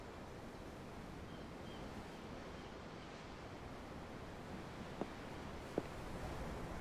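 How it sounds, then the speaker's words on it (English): Steady ocean surf from a ship's deck in the game Tales of Arise, a continuous wash of waves with wind noise and two faint ticks near the end, no talking. "The waves."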